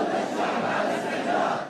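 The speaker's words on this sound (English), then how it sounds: "The crowds chanting jihad, jihad, all the people are ready." Dense crowd of protesters in Yemen's capital chanting in unison, a steady roaring mass of voices with a loose rhythmic swell, loud and continuous throughout.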